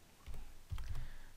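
Several soft keyboard key clicks in two short clusters, close and fairly quiet, as an AutoCAD command, DDPTYPE, is typed on a computer keyboard.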